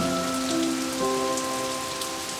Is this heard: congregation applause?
no